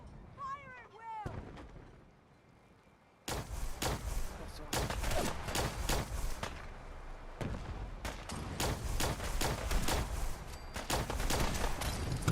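Gunfire volley in Fallout 4, a dense run of sharp, loud shots and booming bursts fired in rapid irregular succession after a brief quieter lead-in.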